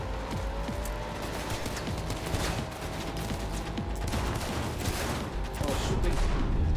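Dense, continuous gunfire from the video game Cyberpunk 2077 rattles loudly throughout, with rapid shots and blasts piled over a busy, roaring battle.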